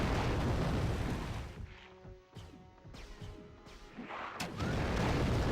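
Explosions from tech arrows in the video game Turok 3: Shadow of Oblivion. Loud booming blasts and crashing bursts come in a rough cluster, thinning briefly in the middle before a dense roar returns.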